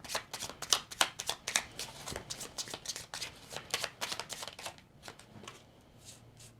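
Tarot cards being shuffled and drawn, with dense, rapid riffling and flicking bursts close by that ease into quieter card handling near the end.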